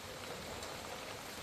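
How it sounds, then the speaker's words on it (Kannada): Heavy monsoon rain pours down in Mangaluru, Dakshina Kannada, as a steady, dense hiss of rainfall that holds even and unbroken throughout, with no voices. "ನಿನ್ನೆಯಿಂದ ಮತ್ತೆ ಮಳೆ ಬರೋದಕ್ಕೆ ಶುರುವಾಗಿದೆ"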